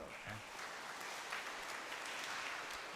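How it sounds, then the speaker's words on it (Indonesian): Inside a church, the congregation at a thanksgiving Mass for a priest's ordination anniversary claps for the choir, giving a soft, even wash of applause that keeps up throughout without a break. "Tepuk tangan untuk anggota kor."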